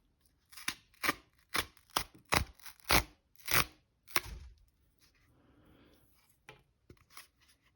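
A perforated opening strip on Apple Card packaging is torn in a quick series of sharp paper rips, about eight close bursts, followed by softer rustling and a few faint tears.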